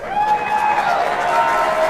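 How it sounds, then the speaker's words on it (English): A studio audience breaks into steady applause with scattered cheers, a close, dense wash of clapping that holds for a couple of seconds, with a few voices rising through it. "Can I have some applause, please, ladies and gentlemen"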